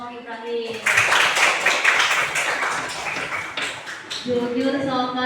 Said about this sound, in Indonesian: Oke, tepuk tangan kelompok Ibrahim.